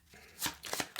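Brisk riffling of a card deck, a few quick bursts of papery flutter close up over about a second, with no talk.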